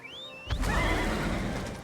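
A horse in a video game gives a loud, drawn-out whinny, preceded by a brief high whistling tone, close and clear with no talking.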